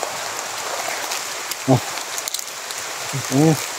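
Steady rain falls outdoors on a roadside during a rescue of lost people, a continuous patter that persists while people talk briefly in the background.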